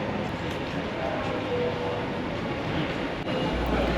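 Train at Nishi-Funabashi station in Chiba, a busy hub served by JR lines, the Tokyo Metro Tozai Line and the Toyo Rapid Railway, heard as a steady rumbling station roar with a faint brief squeal, continuous throughout.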